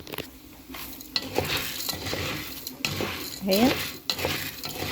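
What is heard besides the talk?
stirring frying pasta in a pan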